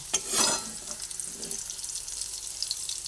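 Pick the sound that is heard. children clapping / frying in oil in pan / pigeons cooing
frying in oil in pan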